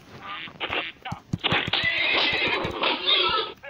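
A horse in Survivalcraft 2 gives a loud, close neigh, a rising whinny that sustains for about two seconds after a few choppy game sounds and thumps.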